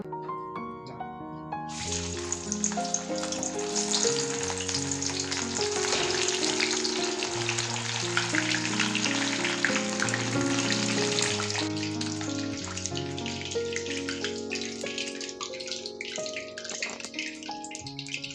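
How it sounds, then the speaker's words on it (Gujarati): Bitter gourd (karela) slices deep-frying in hot oil crackle and bubble loudly and continuously close by, a dense sizzle that swells after the pieces go in and holds steady throughout. "હવે આપણે કારેલાને તળી લેશું અને તેલ પણ ગરમ થઈ ગયું છે"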